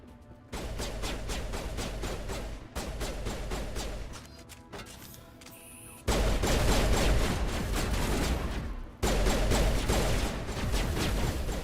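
Rapid bursts of gunfire from the video game Mass Effect: Legendary Edition crackle in several sustained volleys, loud and close, separated by brief pauses and growing heavier toward the end.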